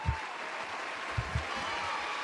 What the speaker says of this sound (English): As always, we keep the applause going for the man.